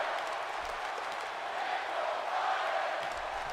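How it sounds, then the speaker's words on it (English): Steady roar of a wrestling arena crowd in WWE 2K18 Universe Mode, cheering continuously for Daniel Bryan, a dense sustained wash of voices with no single standout shout. "This crowd, though, they keep their support going."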